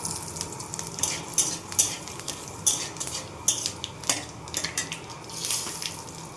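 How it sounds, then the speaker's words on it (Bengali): Bay leaf, fennel and fenugreek tempering in hot oil for paneer with kabuli chana makes a faint, steady crackle. Frequent close metallic clinks and scrapes of a utensil against the pan sound over it, and no one talks. "তেজপাতাও দিয়ে দিলাম। এবার মৌরি আর মেথি ফোড়নে দিয়ে দেবো।"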